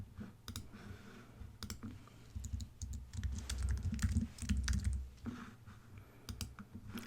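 Computer keyboard typing and mouse clicking while editing weekly sections of a Canvas course, a steady run of close, crisp keystrokes and clicks with no one talking.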